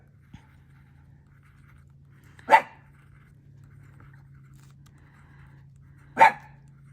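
A dog gives two sharp, isolated barks a few seconds apart, heard indoors against quiet background hum, with no talking.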